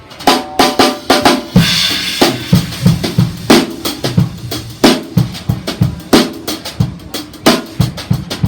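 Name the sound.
drum groove in eighth notes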